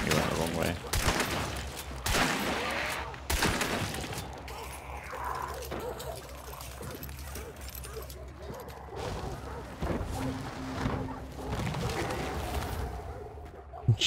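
Gunfire in the Western shooter Hunt: Showdown: sharp shots and bursts ring out at mid distance, spread across the clip among game ambience, with players talking between the reports.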